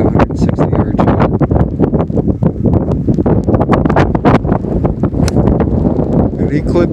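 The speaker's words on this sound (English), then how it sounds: "All right, wind's picked up a bit." Strong wind gusting across a golf course, heavy steady buffeting and rumbling against the microphone for the whole stretch, with people talking underneath.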